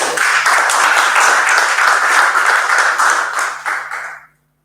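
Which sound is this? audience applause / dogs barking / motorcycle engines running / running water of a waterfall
audience applause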